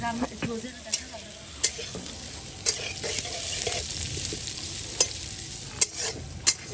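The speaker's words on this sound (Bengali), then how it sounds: "পেঁয়াজ ভাজি, পেঁয়াজ পেঁয়াজ।" Onions frying in a wok over a wood fire on a rooftop, a steady close sizzle broken by sharp scraping and tapping clicks as they are stirred.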